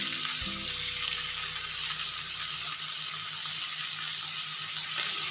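Steady bright sizzle of spices frying in a pan with salt, turmeric and sugar for stuffed tomatoes, continuous and close with no talk, a low hum fading out early on.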